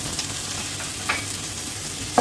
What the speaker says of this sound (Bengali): রসুনটা ঘিয়ের মধ্যে পেঁয়াজের সঙ্গে ভালোভাবে নেড়ে চেড়ে একটু ভাজা ভাজা করে নেব